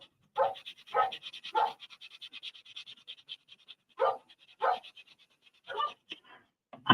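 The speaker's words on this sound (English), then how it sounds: "I know the neighbor dog will come over here and torment him." A dog pants rapidly and lets out several sharp barks and yips in bursts, close and fairly loud, with quiet gaps between outbursts.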